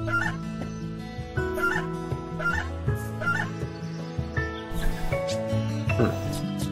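Chickens cluck and a rooster crows in the Doraemon farm video game, repeated clucks over a bright, busy game music track that runs throughout, with a voice talking over it.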